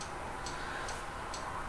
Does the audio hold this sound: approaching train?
no